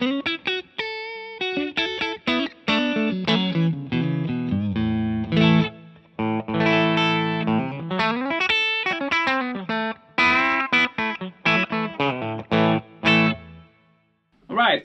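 A Sonimo Strat electric guitar runs into a One Control BJF S66 amp set super clean, playing a lively run of bright chords and single notes with short pauses, alone and fairly loud.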